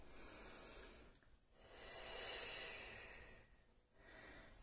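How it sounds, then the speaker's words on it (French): Slow, steady breaths during a Pilates leg stretch, a long airy inhale and exhale that swell and fade in two broad waves, close and soft with no talking. "Encore une respiration."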